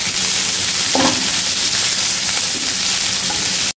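Onions frying in hot oil with cumin seeds for a dhaba-style paneer masala, a steady close broadband sizzle that holds evenly throughout with a few faint clinks of a utensil, no voices.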